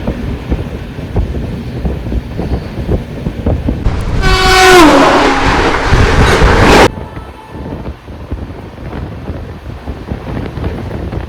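The Sealdah Balurghat Express arrives with a rumble and rolling wheel noise and a loud, sustained horn blast lasting a couple of seconds. Wind buffets the microphone before and after the horn.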